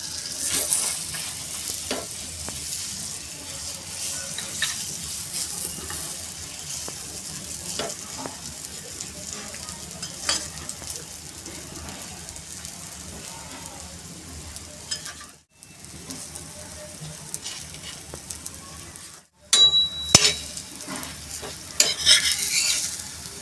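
A cabbage and pea paratha frying in butter on a hot pan gives a steady, close sizzle with occasional scraping and stirring sounds and two brief dropouts.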